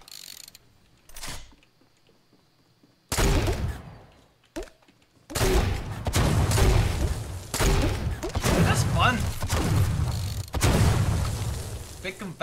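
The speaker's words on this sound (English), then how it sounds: "Big confetti bombs, man." Confetti bomb blasts from an egg launcher skin in Fortnite land as a few loud booming bursts separated by quiet gaps, then heavier sustained explosive noise, with someone talking over parts of it.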